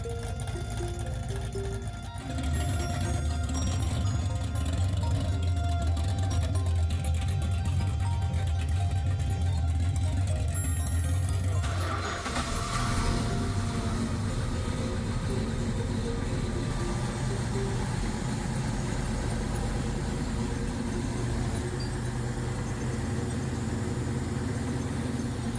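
A Hemi 426 V8 engine cold-starting and running, a loud continuous low rumble that shifts character about halfway through and then holds a steady, rough idle, with no talking.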